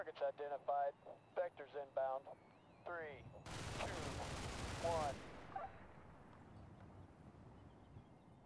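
An MK 20 autocannon fires in Combat Mission Shock Force 2, a war game: one loud burst of rapid fire lasting about a second and a half, with someone talking before it and over it.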